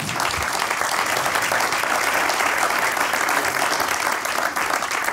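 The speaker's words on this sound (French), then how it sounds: "on peut les applaudir. Merci à tous les intervenants." An audience at a French sports business conference applauds its speakers, a dense, steady burst of clapping from a crowd that holds evenly for several seconds.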